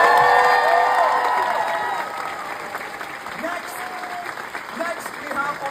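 Theatre audience applauding and cheering after cast introductions at a Moulin Rouge musical performance, a broad loud wash of clapping with whoops and shouts, tapering slightly as it continues and overlaid with some voices.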